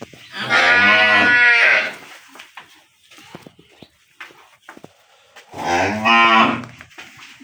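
Two long, loud moos from Holstein Friesian dairy cows, one at the start and another near the end, separated by quieter shuffling and farmyard noises.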